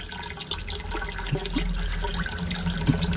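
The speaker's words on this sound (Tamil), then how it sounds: "தண்ணி மேலேருந்து கீழே விழும்போது" Water falls from above into a tank holding a snakehead fish, a steady splashing trickle with scattered drips and bubbly plinks, close by and without talk.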